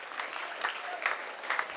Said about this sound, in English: To a round of applause from the fans